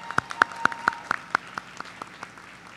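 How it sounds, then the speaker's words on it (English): Sparse clapping at a university graduate commencement, about a dozen crisp evenly spaced claps, the first few loudest, then softer and thinning out toward the end. "I think Brianna needs another round of applause."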